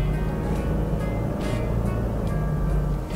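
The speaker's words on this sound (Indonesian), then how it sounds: "mesin GD ini agak berisik kalau di saat idle atau di RPM rendah kayak gini" A Toyota Fortuner's 2.4 GD diesel engine idles with a steady low rumble and clatter, heard from inside the vehicle, with faint ticking bursts on top.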